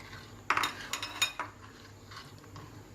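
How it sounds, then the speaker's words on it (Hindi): A spoon scrapes and taps against a pan while stirring a kalakand milk mixture, a quick run of close metallic clinks and scrapes that fades to quiet stirring. "बस अब इसको अंदर थोड़ा देर चमचा चलाते रहना है"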